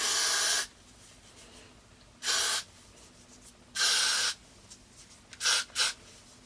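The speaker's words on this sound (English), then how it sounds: "You can just go in and spray it right on top." Four bursts of hair spray hiss close by onto a braid wig's hairline, a long one, two more, then two quick short puffs, with quiet pauses between.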